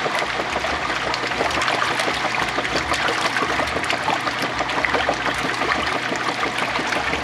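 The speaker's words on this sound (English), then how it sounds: "And it should start agitating any moment." A Whirlpool direct-drive washing machine agitates a load in water, giving a steady churning slosh and trickle with a low motor rumble underneath, continuous and close.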